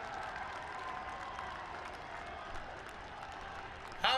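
A crowd at a Dussehra festival gathering applauds to welcome the Prime Minister, with steady, dense clapping and cheering sustained throughout and a louder surge near the end.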